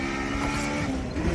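A car engine screams toward redline after a missed shift, a sustained high revving whine held close and loud for the short moment, with no talking over it.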